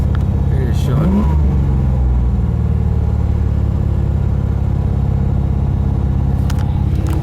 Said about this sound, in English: Now it idles a little bit too high.